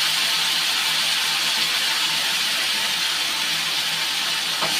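Steady, dense hiss of spices and salt sizzling while being fried in a pan, continuous and fairly loud throughout with no talking.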